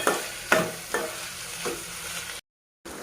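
Capsicum pieces with turmeric fry in a pan, sizzling steadily while a spatula stirs them with a few distinct scraping strokes, then a brief moment of complete silence before the sizzle returns.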